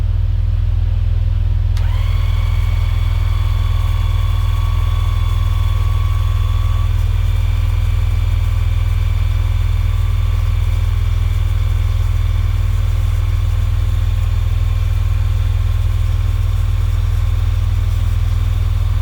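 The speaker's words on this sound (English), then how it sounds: "I'm gonna go ahead and bring the car back down now." A 12V 5-ton electric car jack lowers a car with a steady, continuous motor whine that starts suddenly and holds a constant pitch over a low electrical hum.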